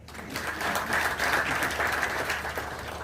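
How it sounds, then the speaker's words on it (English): Audience clapping steadily throughout at an event in Kenya, a dense, sustained round of applause from a seated crowd at moderate distance. "You may clap for him."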